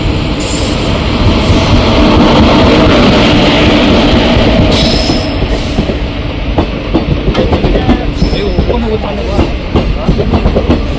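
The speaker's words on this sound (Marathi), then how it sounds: "ही तुतारी एक्सप्रेस आहे" Tutari Express train on the Konkan Railway, a loud, continuous rumble with rhythmic clickety-clack of wheels and occasional squeals, heard close up from on board or trackside, with voices mixed in.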